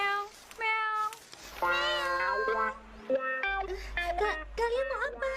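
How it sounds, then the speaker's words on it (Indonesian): A cartoon house cat meows over and over in short tonal cries that rise and fall, close and clear, with a voice speaking among the meows. "lihat ada kucing rumahan"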